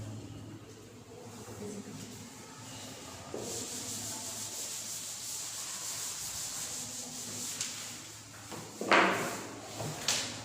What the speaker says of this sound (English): Can I rub this board now?